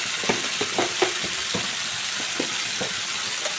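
Ginger, garlic and green chilli pastes fry in a pan for a prawn malai curry, giving a steady close sizzle with scattered soft stirring scrapes throughout.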